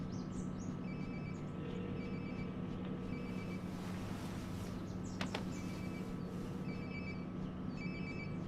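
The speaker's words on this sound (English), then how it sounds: "Sounds like my phone is definitely nearby." A mobile phone rings nearby in the video game Life Is Strange: Before The Storm, a repeating electronic ringtone in short bursts, fairly faint against a steady ambient background hum.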